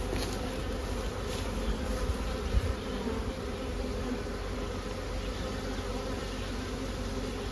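A dense, steady hum of honey bees buzzing, many insects droning together close by without pause.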